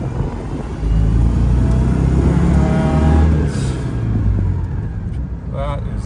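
A restored 1985 Citroen 2CV 6 Club's small engine runs at very low RPM, a close, steady low rumble that swells slightly midway before easing, with a voice speaking briefly near the end.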